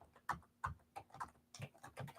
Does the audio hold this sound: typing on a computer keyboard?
yes